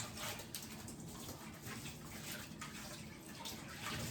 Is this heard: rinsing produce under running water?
yes